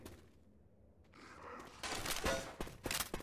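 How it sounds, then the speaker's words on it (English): Incendiary fire-bullet gunfire in Left 4 Dead 2, starting after a quiet moment and building into a run of rapid, fairly loud shots toward the end, with faint game noise beneath. "I'm deploying some fire bullets."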